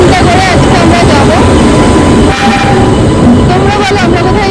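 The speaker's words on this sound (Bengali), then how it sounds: "আমাদের ট্রেন এসে গেছে" A train pulls into Sealdah railway station, loud and close, with a heavy rolling rumble, metallic squeals and clatter. A crowd murmurs on the platform and a person talks over the noise.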